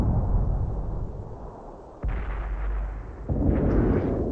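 Artillery fire in World of Tanks on Xbox 360, from a Sexton II self-propelled gun: heavy booming blasts, one sharp report near two seconds and another at about three and a half, over a rumbling battlefield.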